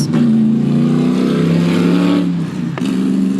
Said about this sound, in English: It's a loud little car.